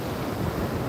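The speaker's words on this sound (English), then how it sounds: "So glad it's windy today." Steady wind buffeting a microphone on a hot beach, a continuous broadband rush with no distinct breaks, alone without talk.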